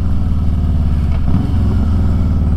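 Motorcycle exhaust drones steadily while riding at cruising speed, a loud, close, low throbbing engine note with a slight rise in revs midway.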